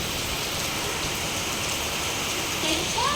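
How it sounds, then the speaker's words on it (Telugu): Heavy rain pours onto a flooded street in Rajendranagar, a steady dense hiss of water that holds evenly throughout without a break. "పాప ఈ వర్షం చూడండి"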